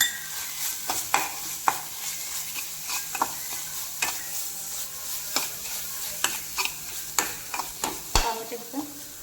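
Masala paste with turmeric and salt being stirred and fried in a pan for a yellow curry: a steady sizzle runs throughout, broken by repeated sharp scrapes of the spoon against the pan at an uneven rhythm.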